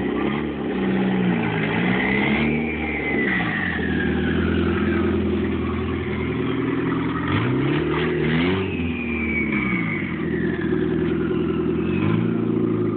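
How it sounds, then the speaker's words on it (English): A turbocharged car engine revs hard in repeated pulls, with a rising, whistling turbo spool riding over the loud engine drone throughout. "I just want to hit a turbo full up."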